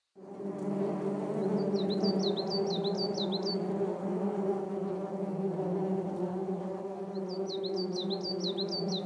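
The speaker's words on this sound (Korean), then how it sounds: "죽음을 무릅쓰고 말벌을 에워싸 말벌의 체온을 올려 죽이는 방법입니다." A dense swarm of honeybees gives off a steady, loud buzz as they close around a hornet, while high chirping bird calls come and go above the drone.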